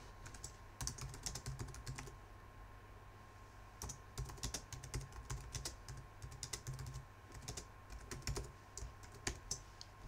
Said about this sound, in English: I'm going to type in something cheesy